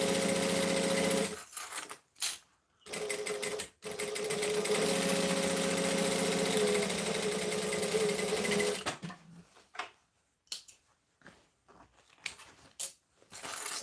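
A sewing machine stitches a garment in a fast, loud whirring run of about seven seconds after a few short bursts, then comes a series of brief stop-start stitches and handling noises, with no talk.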